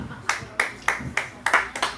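One person clapping at a tennis tournament presentation, with about seven sharp, close claps in an uneven rhythm and no crowd joining in.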